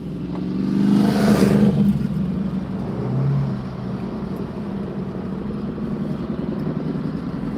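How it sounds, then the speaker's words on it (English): A motorbike passing on a road in the Wigan area, heard from inside a moving car: its engine note swells over about a second and fades away, leaving the steady rumble of the car's own road noise. "There's a motorbike."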